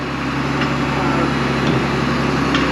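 A tractor engine runs as the machine moves, a loud, steady close-up drone with broad mechanical noise that stays constant from start to finish.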